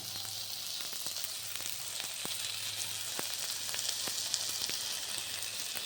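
Bottle gourd peel frying in a pan with onions, giving a steady close sizzle with scattered crackles and pops throughout, no voices.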